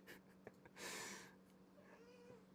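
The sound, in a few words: pet cat meowing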